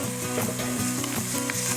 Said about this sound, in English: Then I add in 2 to 3 cloves of garlic, peeled and chopped, and saute for about another minute.